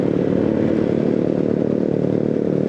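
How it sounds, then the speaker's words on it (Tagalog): Several motorcycles on a road in Bulacan, heard as a steady, fairly loud engine drone with continuous low rumble and clatter throughout, no talking. "maraming motor doon"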